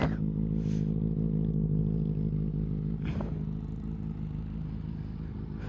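A 2015 Benelli BN600i/TNT600 motorcycle engine runs with a steady, deep, close drone, with a few brief scrapes over it.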